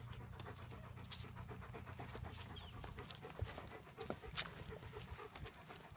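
Dogs pant with quick, steady breaths close by on a rural Georgia drive, the rhythmic huffing running continuously under a low background rumble with a few louder scuffs.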